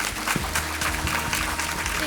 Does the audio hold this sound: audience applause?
yes